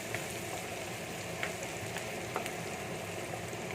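Onion sizzles in mustard oil for golda chingri malaikari, a steady, fairly soft crackling fry with scattered small pops throughout.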